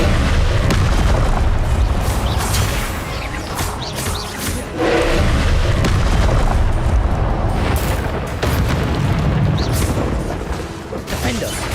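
Explosive Confringo spell blasts in Hogwarts Legacy, a dense run of loud booming bursts layered over continuous game effects and a talking voice.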